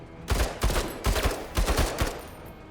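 Darby firing in the MENACE tactics game: a quick string of about eight sharp gunshots in clustered bursts, loud and near, with no talk over them.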